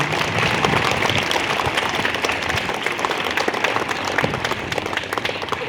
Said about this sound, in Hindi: जोरदार तालियों से हमको स्वागत करेंगे।